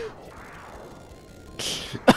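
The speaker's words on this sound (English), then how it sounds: "You're making me cough." A single sharp cough bursts out near the end, preceded by a short breathy throat noise, close to the microphone against a quiet background.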